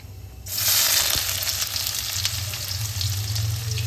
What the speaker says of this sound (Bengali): গরম সর্ষের তেলে ফোড়ন দিয়ে নিচ্ছে একটা শুকনো লঙ্কা কালো জিরে আর একটা তেজপাতা এবার দিয়ে দেবো কুচনো পেঁয়াজ